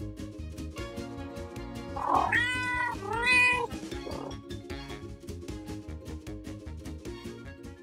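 Playful cat meows in a children's cat-and-mouse chase game at a playground, two drawn-out mews in quick succession riding over continuous background music.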